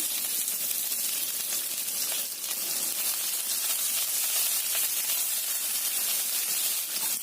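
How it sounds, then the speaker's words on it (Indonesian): Onions sauté in about two tablespoons of hot oil, making a continuous, bright sizzling hiss that stays even throughout, with nobody talking. "Kita tumis dulu bawang bombaynya."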